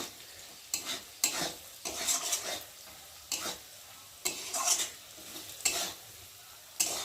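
Potatoes with turmeric powder being stirred in a frying pan for chowmein, a spatula scraping in repeated strokes over a steady sizzle of oil, close and fairly quiet.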